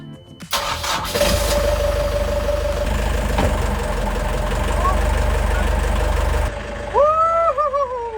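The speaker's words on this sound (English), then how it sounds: "Engine on, please. Loud noise. Engine on." A sailboat's inboard engine cranks and catches, then settles into a loud, steady low idle rumble close by before cutting back, with a voice speaking briefly near the end.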